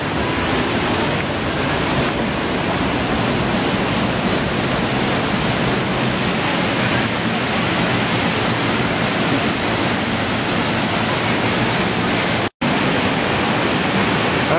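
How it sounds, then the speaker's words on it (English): A waterfall in Costa Rica roars as a steady, dense rush of falling water, loud and close, continuous with no voices. "And we're now at the waterfall."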